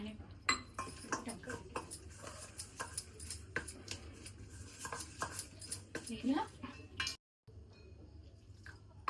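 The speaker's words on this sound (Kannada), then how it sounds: "ಸ್ವಲ್ಪ ನೀರು ಹಾಕೊಂಡು ಚೆನ್ನಾಗಿ ಕಲಿಸ್ಕೊಳ್ರಿ" Close spoon clinks and wet scraping against a bowl as gobi manchurian batter of cauliflower and water is mixed, in irregular bursts with a brief silent gap near the end.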